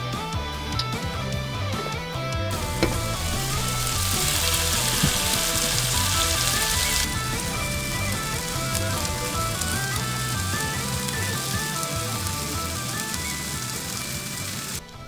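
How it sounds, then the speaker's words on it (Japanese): Green onion tsukune patties sizzle steadily while steam-frying in an oiled pan, a continuous hiss like light rain, with a louder burst of spitting partway through and no talking. "8分蒸し焼きにする。"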